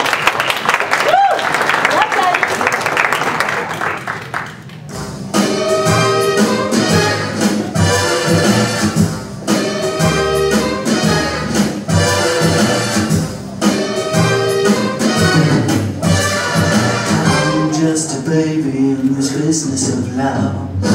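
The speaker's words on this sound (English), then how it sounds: "Give them a big round of applause." Audience applause after a band's live performance of a song, a dense crowd clapping for about five seconds before loud music with singing takes over for the rest.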